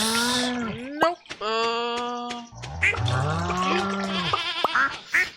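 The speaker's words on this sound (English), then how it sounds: "Goats." Several goats in the Stardew Valley video game give loud, wavering bleats in quick succession, overlapping with short clicks and game effects, with no talk over them.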